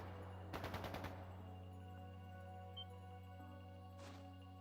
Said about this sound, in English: That didn't sound good. That sounded like gunfire.